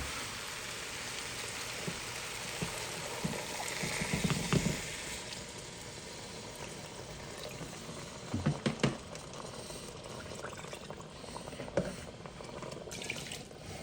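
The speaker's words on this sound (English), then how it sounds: "Now we're going to add our water." Water splashes and trickles steadily into a pot while cooking lamb dhansak, a continuous wet pouring rush with a few louder sloshes, close by and without talk.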